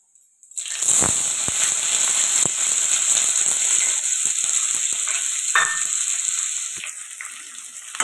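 Onions hit hot oil with bay leaves in a pan and burst into a loud, steady sizzle that continues throughout, with a few sharp clicks of stirring.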